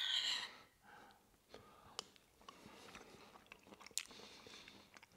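Someone bites into and chews garlic prawns in a rich cream sauce, soft wet crunching and mouth sounds up close and fairly quiet, with a few breaths between bites.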